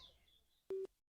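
A phone gives a single short electronic beep after a call is hung up, a clean steady tone lasting under a quarter second, faint background before it and silence after.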